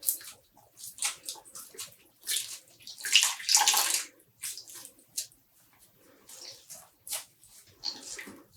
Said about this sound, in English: Now squeezing out the water again.